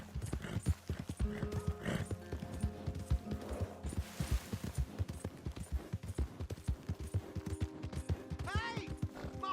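Horse hooves clip-clop steadily throughout in Red Dead Redemption 2, mixed with game sounds, with a neigh or whinny near the end, all close and fairly loud.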